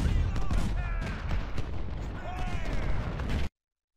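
Cannon and artillery fire booms through a Civil War battle in the strategy game Ultimate General: Civil War, a dense run of rumbling blasts and crackling bursts that continues until it cuts off abruptly before the end.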